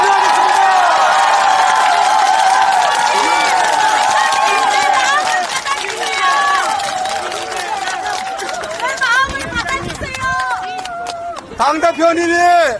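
Crowd at a Korean political rally applauding and cheering for a party leader, loud sustained clapping with shouts and chatter mixed in, tapering off as voices rise toward the end.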